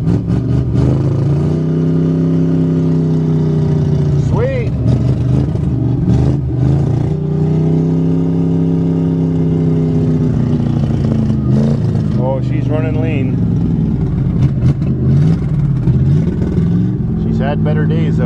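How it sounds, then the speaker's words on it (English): A Pontiac or Chevy car engine started cold without choke on a November farm, running loud and rough with repeated revs rising and falling, while a person talks over it. "This is the coldest I've ever tried to start it yet without choke."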